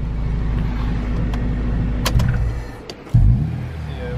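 A turbocharged Honda Civic pulls away on a test drive inside a motorsport garage, with a loud, steady engine drone that dips, then a sudden rumbling surge as it moves off.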